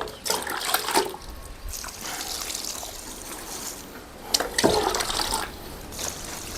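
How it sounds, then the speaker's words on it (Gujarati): Water poured into a homemade organic fertilizer mix, a soft trickling and splashing stream with two brief louder gushes, moderately quiet and close, no talking. "હવે આપણે આમાં પાણી વેડીશું"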